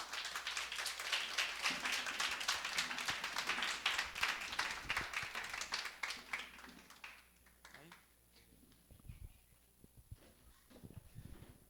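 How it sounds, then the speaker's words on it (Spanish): A church congregation at a Sunday service claps steadily for several seconds, then the applause fades out and a voice starts speaking, all at fairly low level. "Denle un aplauso a los hermanos."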